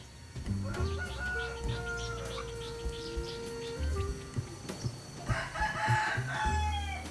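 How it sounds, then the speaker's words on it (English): Domestic roosters crow repeatedly, some near and some farther off, with occasional clucking and other birds in the quiet Thai countryside background. "he records domestic roosters crowing in the Thai countryside"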